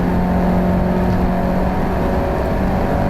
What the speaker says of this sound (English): there goes the rev limiter